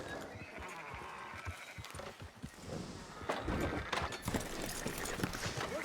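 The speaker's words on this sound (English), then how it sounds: "Fine sheep." Sheep bleating in a farm setting, mixed with hoof clatter and other livestock movement, steady and fairly close, with someone talking briefly nearby.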